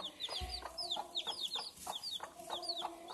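Soft, repeated hen clucks in short bursts alongside high peeping chicks, fairly close, no talking.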